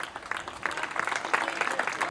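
Applause at an award ceremony where young beach workers receive certificates: a short burst of group clapping that starts light and grows denser and louder.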